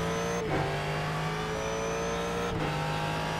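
A Ford GT3 race car engine in iRacing at Circuit of the Americas holds a steady, loud drone under throttle, with two brief dips around gear changes or lifts.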